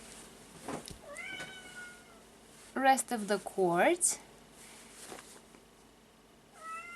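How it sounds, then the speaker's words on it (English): A house cat meows near a door several times, with short rising calls followed by a louder burst of meows and a faint final cry, while a person talks over the quieter stretches. "Now I let the cat out"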